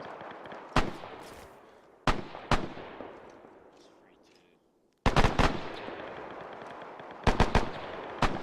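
Distant-sounding rifle and machine-gun fire in a World War II Arma 3 battle, with single sharp cracks leaving long echoing tails, a short silent gap, then heavier clustered bursts.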